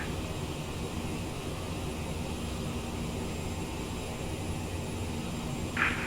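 Steady broadband cabin roar of a CRJ900 jet airliner in cruise on a flight from Montreal to Winnipeg, a constant even drone throughout with a brief brighter hiss near the end.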